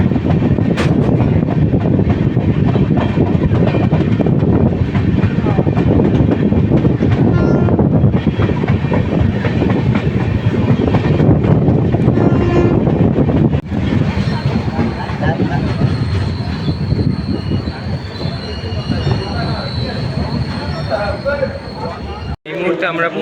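The Howrah–Balurghat Express runs on rails near Nabadwip. Steady, loud clatter and rumble of wheels and cars carry on throughout, with squealing wheels and high metallic whines toward the end.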